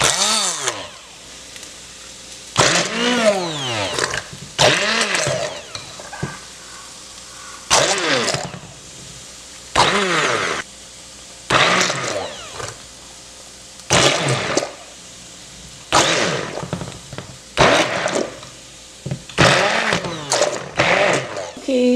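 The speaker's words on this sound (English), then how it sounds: "Okay, so I blended up my tomato sauce." A store-bought countertop blender whirs through tomato sauce in repeated short pulses, each burst starting with a rising motor whine and cutting off abruptly, with quiet gaps between.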